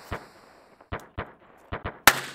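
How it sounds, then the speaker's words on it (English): Fireworks in the role-playing game Chrono Trigger crack in sharp, separate bursts, about six pops at uneven intervals with the last one loudest, no voices over them. "No, it's fireworks. Just like these fireworks."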